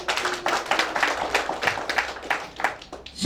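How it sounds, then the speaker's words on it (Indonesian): A church congregation at a dedication service claps together in a steady, fairly close round of applause for a few seconds. "Kita beri dulu tepuk tangan."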